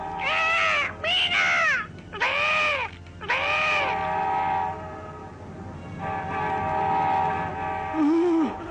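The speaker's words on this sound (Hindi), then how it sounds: "ओ नहीं, मिठू, रेल, अब क्या करेंगे?" A train approaching on a railway track where a tractor sits stalled on the rails sounds four loud, wavering horn blasts, followed by a sustained droning horn tone, with a brief voice near the end.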